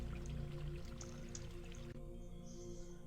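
Fountain water in Zork Nemesis, a soft continuous trickle and drip over a low ambient drone, steady and moderately close, with no talking.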